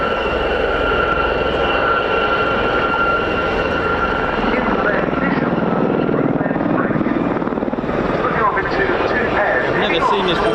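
Westland-built Gazelle helicopters of the 2024 Gazelle Squadron fly a display at the RAF Cosford air show, their loud continuous rotor beat and turbine whine swelling and shifting as they pass, under a commentator's voice.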